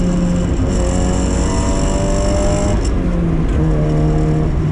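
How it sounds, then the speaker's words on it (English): Supercharged Mazda Miata NA engine revving hard on a race track, a steady loud buzzing drone with rising and falling pitch as it climbs through the revs, heard from inside the car with no talking. "It just revs so cleanly."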